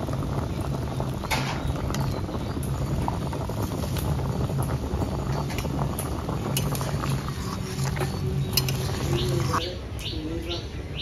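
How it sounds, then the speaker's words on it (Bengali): A village-style hilsa fish curry broth with taro and potato bubbles steadily in a pot, a continuous close boil with birds chirping and cooing faintly in the background. "ঝোল ভালো করে ফুটে গেছে"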